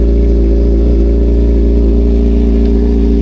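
A motorcycle engine idles loud and steady just after a cold start on a chilly day, a constant low rumble with no pauses and no talk.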